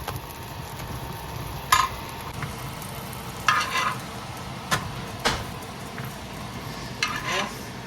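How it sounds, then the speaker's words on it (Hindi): Parathas cooking on a tawa, a faint low sizzle with a few light clinks and scrapes of a spatula now and then. "महीन नहा के तैयार होके आ जाए, मस्त पराठे तैयार हो रहे हैं"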